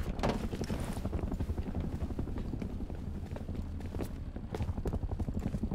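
Horse hooves clip-clop in a steady, fairly close rhythm in the survival game Rust, mixed with game ambience and some voices.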